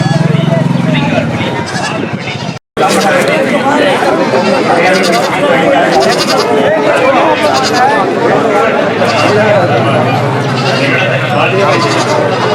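Goats and kids bleat repeatedly at a busy goat market in Pavoorchatram, mixed with loud crowd chatter and nearby voices talking throughout.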